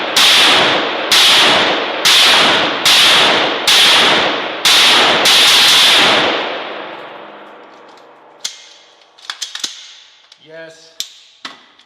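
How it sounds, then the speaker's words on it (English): Rifle shots from a Sig Sauer MCX Spear LT or a CMMG Resolute MK47 ring out in a rapid run of seven loud, sharp cracks at a steady pace, each with a short echo, followed by quieter clinks and handling sounds. "let's get to shooting these things"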